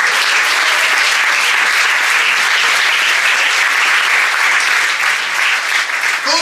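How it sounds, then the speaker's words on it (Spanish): A church congregation applauds during a Sunday morning service, a loud, sustained wall of dense clapping that fills the room steadily and eases only slightly toward the end. "Aplauda al Señor conmigo en esta mañana."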